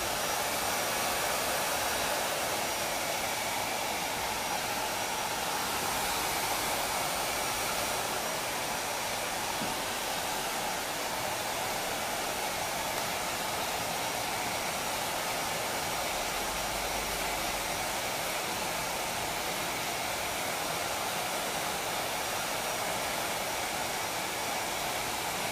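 Hair dryer blowing without a concentrator nozzle during a short haircut, a steady loud broadband rush of air holding unchanged throughout, with no talking.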